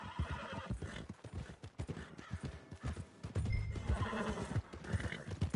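A horse whinnies loudly in a video game over busy clip-clopping hooves and rustling ambience, the neigh rising mid-way before the hoofbeats carry on.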